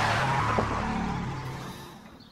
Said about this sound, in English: But Kevin instinctively hits the brake and he skids out of control again.